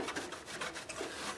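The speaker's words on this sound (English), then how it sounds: "now I'm going to clean up most of the glue excess. It really wipes off very nicely" Excess Canopy glue being wiped off the bindings of a Gibson classical guitar, heard as a quiet, close rhythmic rubbing and rasping of cloth on wood, with no one talking.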